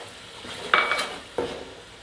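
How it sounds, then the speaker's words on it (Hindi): Spices being stirred in a pot for chicken pulao, with two distinct metal clinks and scrapes of a spoon against the pot over a faint background sizzle. "अब इनको थोड़ी देर हम भूनेंगे।"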